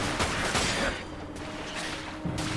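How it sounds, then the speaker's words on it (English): Rapid machine gun fire in the action shooter Dirge of Cerberus: Final Fantasy VII, a dense burst of gunfire that eases after the first second and then comes back, with game sounds in the background. "this is the machine gun"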